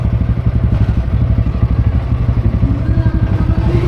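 A motorcycle engine runs close by in Talaingod, Davao del Norte. Its low, chugging pulses repeat rapidly and evenly for the whole stretch, loud and steady, with faint rattling mixed in.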